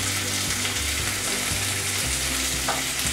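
Chopped tomatoes with turmeric and a pinch of salt cook in a pan, sizzling steadily and fairly loud, with occasional stirring scrapes and no voices.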